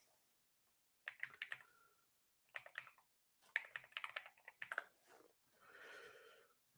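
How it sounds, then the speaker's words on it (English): Fingers type on a new mechanical keyboard, close and quiet, with several bursts of rapid clacking keystrokes separated by short pauses, ending in a softer sustained rattle. "By the way, I got a new mechanical keyboard."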